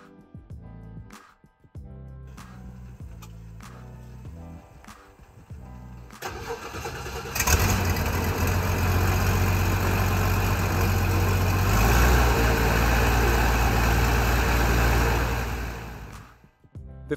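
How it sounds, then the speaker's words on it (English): A Belgian UL Power aircraft engine of 180 horsepower on a Bush 505 light aircraft, heard after some clicks, cranks, catches and settles into a loud, steady idle close by with a constant high whine. "The fiery heart of this aircraft is the Belgian UL power engine."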